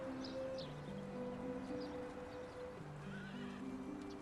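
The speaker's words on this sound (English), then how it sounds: "I'm gonna leave my horse here, just in case something weird happens" A horse in the medieval survival game Medieval Dynasty gives a drawn-out neigh, fairly faint, with soft clip-clop hoofsteps and light ambient rustle around it.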